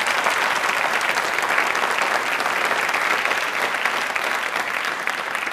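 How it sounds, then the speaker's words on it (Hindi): Loud, sustained audience applause at a Hindi Pakhwada official-language event, a thick even wash of many hands clapping at once that holds steady from start to finish with no voices over it. "प्लीज़ एक बार जोरदार तालियां वापस से हो जाए"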